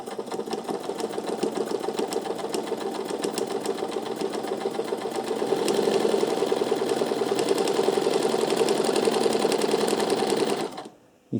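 An old sewing machine with a repaired thread tensioner and light stitches steadily in a fast, even whir of clattering needle strokes, growing slightly louder midway, then stopping abruptly near the end.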